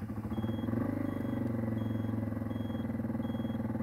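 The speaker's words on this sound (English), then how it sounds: "Let's try the turn signal." A homemade turn signal buzzer on a motorcycle gives short, faint, high beeps repeating at a regular blink rhythm over the steady low idle rumble of the bike's engine.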